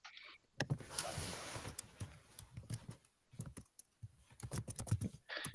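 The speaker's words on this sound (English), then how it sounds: "getting like some typing noises, so please make sure you're muted if you're not talking on the call" Keys on a computer keyboard clatter in quick irregular bursts of clicks during an online meeting call, picked up faintly by an open microphone, with short pauses between runs of typing.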